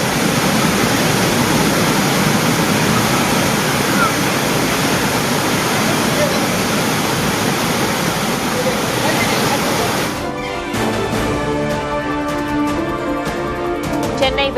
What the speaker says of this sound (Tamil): கனமழையால் பெரியார் நீர்வீழ்ச்சியில் வெள்ளப்பெருக்கு